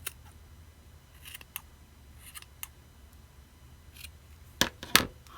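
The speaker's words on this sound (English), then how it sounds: "You can see that end is not as even, so I'm just going to trim." Scissors trim the uneven end of a yarn pom-pom for a handmade ornament, with several sharp snips scattered across the clip and two loud close cuts near the end, in a quiet room with no talking.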